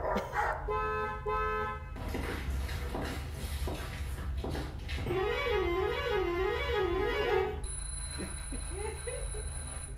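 Short sound effects play back to back as a listening quiz during a film-promotion interview: a ringing bell, a barking dog, a car horn, shoes stepping and a bus horn, each a separate burst at moderate level.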